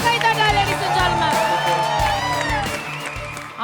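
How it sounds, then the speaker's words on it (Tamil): A studio audience at a Tamil TV show claps and cheers loudly for a contestant named Sivadharshini. Whoops and shouting voices ride over steady applause. "சிவதர்ஷினிக்காக ஒரு அரங்கம் நிறைந்த கைத்தட்டல் ladies and gentlemen"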